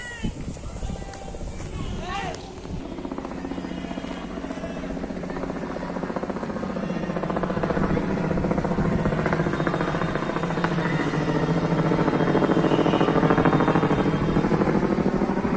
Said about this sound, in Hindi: ऊपर से हेलीकॉप्टर पार हो रहा है,